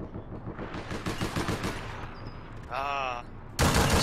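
Light machine gun fire in the video game APB Reloaded rattles in rapid, steady bursts, then breaks off for a moment before a louder burst cuts back in. A brief vocal exclamation comes partway through.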